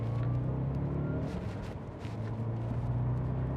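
Quiet Audi V8 engine from the UK Cannonball record car, held in the higher rev range around 3,500 RPM and up, giving a low steady rumble with a faint whir, heard from inside the car.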